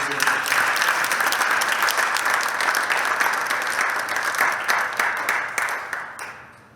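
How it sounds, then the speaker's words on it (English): Audience applause after a call to recognize individuals at an ETHWaterloo talk on cryptoeconomics, a steady roomful of clapping that holds strong for about six seconds before tapering off at the end. "So if you could join me in a round of applause for those individuals."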